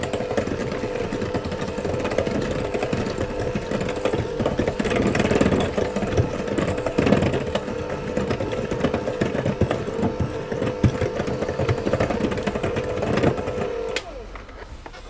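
An electric mixer runs on low speed through flour, lemon zest and a pinch of salt, a steady close motor whir holding for most of the stretch before easing off near the end.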